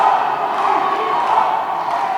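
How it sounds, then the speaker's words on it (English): A loud home crowd cheers continuously at a men's playoff match between Canada and Mexico at the 2019 Dodgeball World Championships in Cancun, a dense, roaring wall of voices throughout. "This home crowd is so loud."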